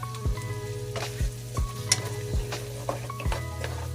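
Garlic sizzles steadily in a hot pan for shrimp, with a continuous frying hiss broken by several sharp stirring scrapes and light utensil knocks at an uneven pace, close and clear with no talking.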